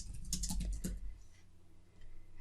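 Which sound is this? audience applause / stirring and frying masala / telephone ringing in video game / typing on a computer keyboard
typing on a computer keyboard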